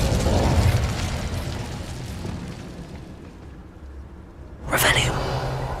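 Incendio fire spell cast in the Hogwarts Legacy video game near an Acromantula cave: a sudden loud burst of flame near the end, following a stretch of low rumbling ambience.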